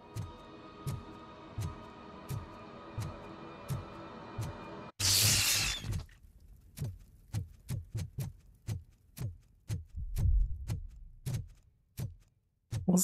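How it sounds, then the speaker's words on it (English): Heartbeat in the Robocop Rogue City video game: repeated low thumps in a steady rhythm, first under a humming music bed, then after a loud burst continuing alone, clear and close. "That better be your heartbeat"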